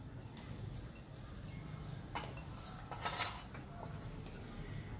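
Sliced onions being mixed with squeezed lemon juice in a bowl for Surti onion bhajiya, with soft clinks and scrapes of a spoon against the bowl, close and quiet, picking up briefly near the middle.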